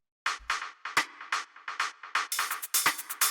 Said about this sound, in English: And after that we have these two rim shots which sound like this.